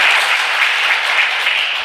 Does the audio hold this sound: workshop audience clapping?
yes